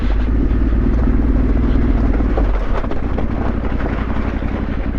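A trail motorcycle engine roars steadily and loudly during a downhill stretch on a group ride, with rattling and clatter from the bike over loose, ball-bearing-like track, and the engine note drops partway through.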